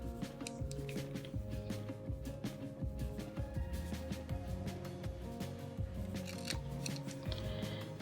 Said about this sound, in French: Je vais venir maintenant, je vais couper au niveau de mes points de rupture.